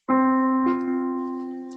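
A sustained synthesized pentatonic-scale chord rings out, bright and clear, with a soft re-attack partway through before slowly fading.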